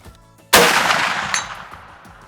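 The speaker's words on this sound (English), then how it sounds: "Now I'm gonna shoot at 190 yards." A single sharp, loud gunshot from a CVA Optima black powder rifle fired outdoors at a target 190 yards away, with a long rolling boom that decays over about a second and a faint distant echo or impact afterward.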